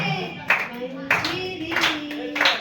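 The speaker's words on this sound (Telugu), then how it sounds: "అందరూ కలిసి చప్పట్లు కొట్టి దేవుని నామాన్ని మహిమపరుచుకుందాం." A church congregation claps together in spaced, sharp bursts roughly every half second to second, over a voice leading the worship.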